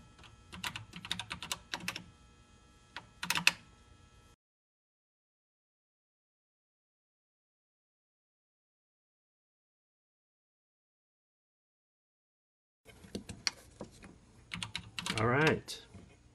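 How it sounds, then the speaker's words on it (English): Clicky typing on an Apple IIe computer keyboard comes in two bursts, close and moderately loud, separated by a long stretch of silence. "I'm going to type in the program"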